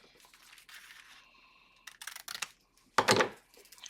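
Scissors cutting junk mail paper for an envelope pocket, close crisp snips and crinkly rustles in short uneven bursts, with one louder paper crunch near the end.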